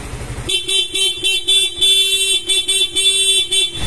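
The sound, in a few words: stock horn on Sniper 155 motorcycle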